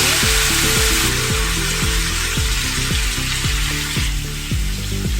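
Small tomatoes fry in oil tempered with spices for a Bengali-style tomato chutney, a loud, continuous sizzling hiss with a rhythmic low throbbing underneath and no talking.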